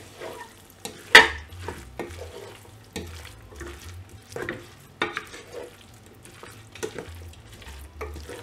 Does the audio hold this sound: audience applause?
no